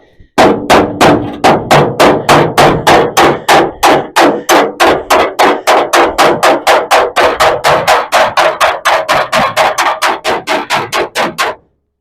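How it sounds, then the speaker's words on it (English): Rapid, steady hammer blows ring out on a metal panel being panel beaten for a 1937 Chevy hot rod, dozens of sharp strikes in an even rhythm, loud and close, with no talking. "Just panel beat it a bit."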